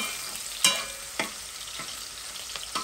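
Onions fry in hot oil, a soft steady sizzle punctuated by several sharp scrapes of a spoon against the pan, with no talking.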